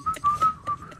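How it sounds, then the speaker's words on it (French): A person whistles a short tune, a few clear sustained notes with small breaks between them, close and alone without talk. "Je sifflote."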